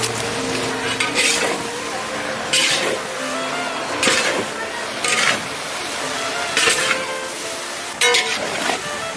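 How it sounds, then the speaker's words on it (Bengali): Fried eggplant is stirred into pot-cooked mixed vegetables for shukto, a spoon scraping rhythmically against the pan every second or two over a steady sizzling background. "এখন দিয়ে দেবো ভাজা বেগুন আর মিক্স।"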